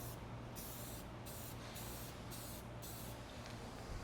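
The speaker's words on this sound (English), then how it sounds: "all I'm doing is just non-uniformly spraying" A continuous hissing spray from a nearby aerosol can, pulsing in short bursts with a low hum underneath.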